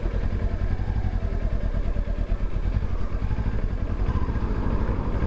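A 2023 Kawasaki Ninja 400 KRT sport motorcycle on the move, its engine droning steadily and loud up close as gears shift smoothly, with no talking.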